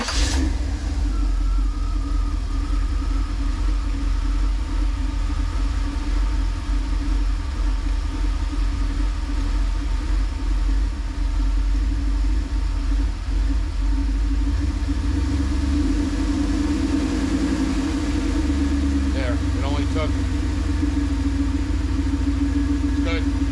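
A 1988 Camaro IROC Z28 idles steadily after starting, a low continuous engine rumble holding even throughout, with brief voices near the end.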